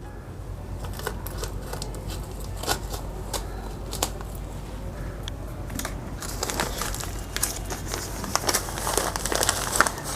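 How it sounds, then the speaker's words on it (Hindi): A plastic nursery bag crinkles and crackles as it is peeled away from a potted dahlia's root ball, a steady close-up rustling that grows denser and louder toward the end, with no speech. "पन्नी में लगा हुआ है तो इसकी पन्नी उतार देंगे।"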